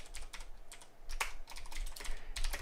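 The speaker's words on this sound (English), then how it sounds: "Type that in again." Computer keyboard typing in bursts of quick, close keystrokes during a live coding session in Sublime Text, with short pauses between runs of keys and no talking.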